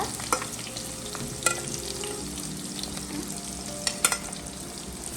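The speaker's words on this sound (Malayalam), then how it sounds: "സവാള ഇട്ട് കൊടുക്കുവാണ് നമ്മൾ" Onions frying in a pan for a tuna fish curry, a steady broadband sizzle with occasional sharp clicks of a spoon stirring against the pan, moderately close and without talk.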